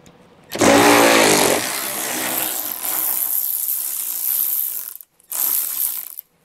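Ratchet backing out 10 mm screws on a 2022 Mazda CX-9 during a trailer hitch install, loud close clicking runs of the pawl in two spells separated by a brief pause.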